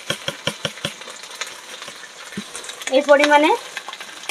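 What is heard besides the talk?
stirring khichuri in a pan after adding sugar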